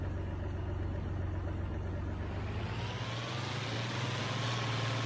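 An old 2+2 tractor engine runs steadily with a low, throbbing drone, shifting pitch partway through as the load or revs change, close and continuous.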